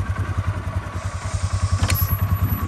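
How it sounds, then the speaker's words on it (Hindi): A motorcycle rumbles steadily through Jaisalmer, its engine pulsing in a close, even rhythm throughout, with a brief clatter partway and no speech over it. "अभी आप जा रहे हैं बाइक पे एक राउंड मारने के लिए"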